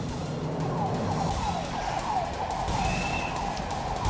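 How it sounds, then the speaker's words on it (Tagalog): Dense rush-hour road traffic at EDSA Monumento in Caloocan City, a continuous engine rumble with passing vehicles and faint tire and horn-like tones, steady and moderately loud, with no talk. "Henry, dito sa EDSA Monumento sa Caloocan City, ramdam na ulit ang mabigat na dali ng traffic lalo't rush hour na"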